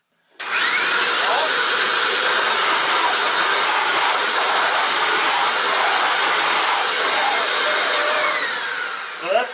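A Hoover WindTunnel U6485900 self-propelled upright vacuum cleaner runs close up, a loud, steady whooshing motor roar with a slight hiss that holds for about nine seconds before a brief bump at the end.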